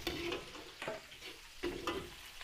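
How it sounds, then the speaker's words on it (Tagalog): Onion and aromatics sautéed in a pan for Filipino fiesta cooking, with rhythmic scraping strokes of a spatula over a soft, steady sizzle, close and fairly quiet with no talk. "Igisa rin po natin yung ating aromatics."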